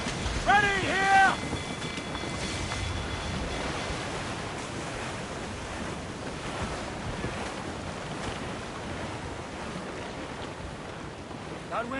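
Wind and ocean waves at sea in the Assassin's Creed Rogue video game form a steady, hissing wash throughout, with a brief louder burst and a short tonal chirp near the start.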